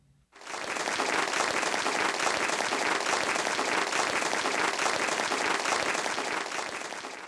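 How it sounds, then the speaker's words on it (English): Applause sound effect on a Strich SEP-150 88-key keyboard: a dense, loud wash of many hands clapping that starts abruptly and holds evenly for about seven seconds, with a looped, unchanging quality. "Applause."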